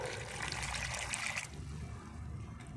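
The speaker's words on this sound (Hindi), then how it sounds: "Let's use water. We will use very less water." A little water poured into cement, a steady close trickle that runs for about a second and a half and then drops to a softer, fainter flow.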